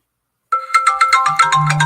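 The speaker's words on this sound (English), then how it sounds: "Phone call." A phone ringtone begins abruptly and plays a bright, repeating electronic melody, loud and close, with no other sound behind it.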